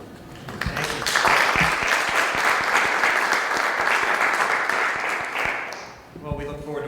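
An audience at a Marshfield school committee meeting applauds after a speech, with loud, dense clapping that holds steady for about five seconds before fading, as a voice starts to speak.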